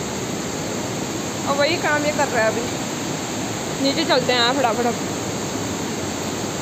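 Water pours and splashes in a steady, roaring rush during rainy weather, a broad continuous wash close by, while someone speaks briefly over it twice.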